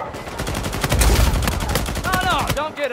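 Rapid video game gunfire crackles in quick repeated shots, close and loud, with a heavier burst around the middle and a voice talking over the end.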